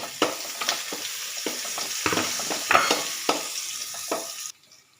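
Green chillies frying in a hot pan while being mixed, a close crackling sizzle broken by repeated scraping stirs, steady throughout before abruptly dropping away at the end.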